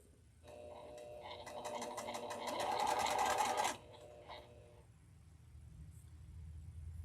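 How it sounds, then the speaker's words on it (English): A sewing machine stitches quilt block seams for a pink block, running at an even whir that builds louder for a few seconds and then stops, leaving quiet room noise. "I am going to sew a little bit slower so that I can line up these edges, those corners"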